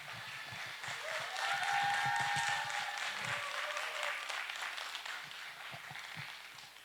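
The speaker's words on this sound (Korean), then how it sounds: "큰 박수 부탁드리겠습니다." Audience applause welcoming a Buddhist monk speaker at a university workshop, soft and somewhat distant clapping that holds steady, with faint tonal hum and low murmur underneath.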